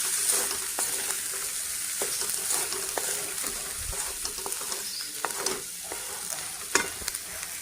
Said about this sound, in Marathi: आता आपण मूग मटकी भाजून घेतली ते पण टाकून घेऊ छान असं मिक्स करायचं